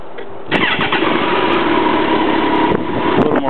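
A C14 motorcycle engine with a quiet rear muffler cranks and catches, then settles into a steady, fairly quiet idle that runs on continuously, close by.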